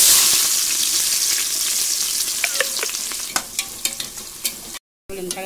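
Onions sizzle loudly in hot oil in a pan with whole spices for a mushroom biryani, a steady frying hiss broken by several clinks and scrapes of stirring.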